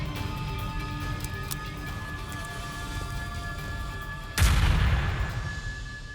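A single sharp gunshot from a true-crime reenactment breaks out loud and close after several seconds of low, steady background sound, its boom trailing off slowly.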